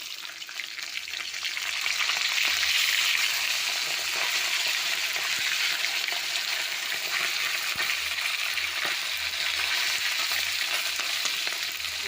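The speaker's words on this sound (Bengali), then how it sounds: "মাছ একটু ভাজা হলে মাছটি ভেজে দেবো" Fish fries in a wok with a loud, continuous sizzle. Faint stirring scrapes and crackles run through it, with no voices.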